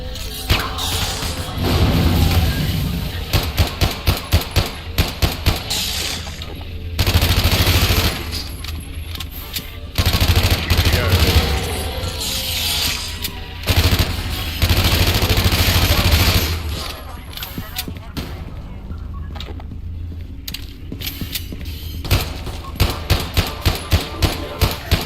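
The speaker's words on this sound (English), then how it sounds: "Go on, shoot the chandelier off." Gunfire in The Division shoots down a chandelier indoors: dense bursts of rapid shots with crashing, smashing impacts and clattering debris, loud and close, alternating with quieter stretches where people talk.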